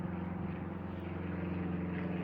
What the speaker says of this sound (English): Maybe you can hear that plane noise, viewers.